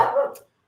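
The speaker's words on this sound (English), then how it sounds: "Apologies for the dog." A single short dog bark rings out, fairly faint and slightly distant, then silence.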